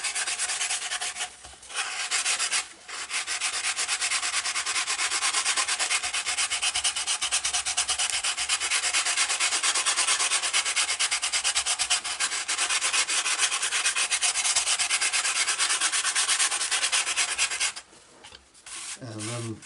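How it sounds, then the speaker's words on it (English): Sandpaper rubs steadily over a balsa fuselage for the Sunbird V2 powered glider, giving a continuous close scratchy hiss with two short pauses early on and a stop near the end. "keep rotating the fuselage so that you don't sand a flat spot"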